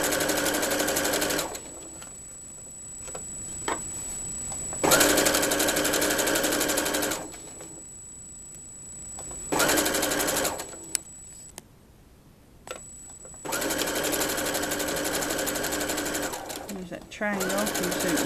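Sewing machine stitching a Christmas stocking: long steady bursts of loud, even motor whir with a whining tone, stopping and restarting several times, with short quiet pauses between runs.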